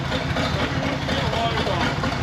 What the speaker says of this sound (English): Turbos aren't as loud as I hoped they'd be.